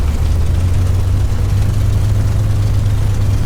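A simulated P-51D Mustang engine idles at low RPM in Flight Simulator X, giving a steady, deep, rumbling drone that holds even and unbroken throughout, with no voices.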